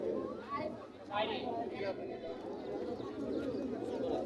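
At Sakhipur pigeon market, caged pigeons coo faintly under a constant crowd hubbub of murmuring voices and shuffling.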